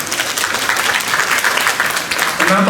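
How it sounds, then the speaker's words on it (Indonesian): Loud, dense applause from a crowd at an official launch event in NTT, Indonesia, honouring an official, many hands clapping close and steady with some voices mixed in. "Tepuk tangan Pak Sony Libing."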